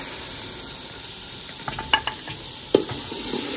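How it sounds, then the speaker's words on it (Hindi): Chopped tomatoes go into a frying pan in a village kitchen, giving a soft, steady sizzle with a few sharp clinks and scrapes of stirring near the end, and no talking. "टमाटर काट लिए हैं अभी डाले जा रहे हैं"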